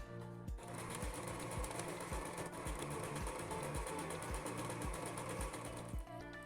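A sewing machine stitches fabric for shorts, a fast steady mechanical whir with a rhythmic needle knock. It runs continuously for about six seconds and stops abruptly, close but soft, with no talk.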